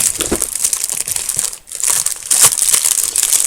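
Scotch tape crinkles and crackles in quick, close bursts, with a brief pause midway before the rustling resumes.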